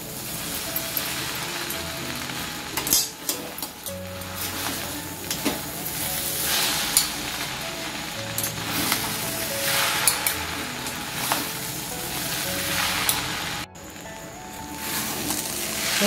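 Chicken chow mein noodles frying in a pan, tossed with two spatulas, giving a steady close sizzle and hiss with intermittent scraping and stirring clatter throughout.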